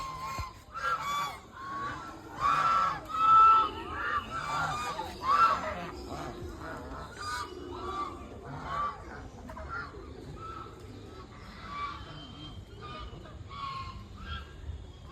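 Ducks or geese on a small river honk and call repeatedly, loud and near, in irregular bursts that fade toward the end, with faint voices in the background.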